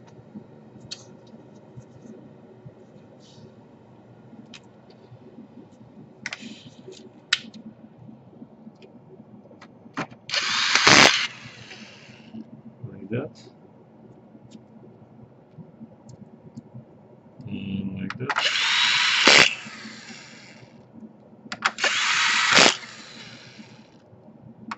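Power drill driving screws into a Dell Inspiron 17 5000 laptop during a DC power jack repair, a few short whirring bursts separated by quiet stretches with small clicks and handling noises.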